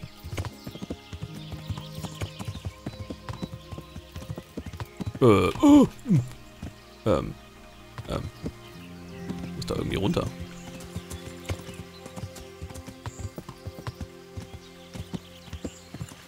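Horse hooves clip-clop in an uneven galloping rhythm in the video game Kingdom Come: Deliverance, with a couple of louder thuds as the horse runs into trees, and a whinny, while a person talks briefly.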